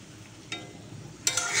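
Shing fish is added to spices for frying in a radish curry, giving a soft, low sizzle with a brief clatter, then a sudden louder hiss that rises sharply near the end.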